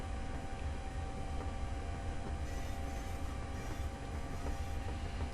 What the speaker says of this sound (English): This is a nice loco. It's fun. It's nice to drive as well.